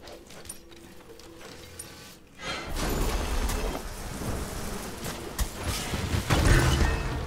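Thunder and lightning ability effect in the game Smite: a loud thunderclap crashes in and rolls on with rain-like crackling and rumble, building after a quieter opening.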